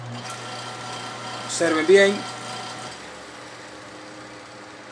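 A semi-automatic washing machine motor on a timer hums steadily, with a brief louder shift midway as it changes spin direction. A person speaks over it.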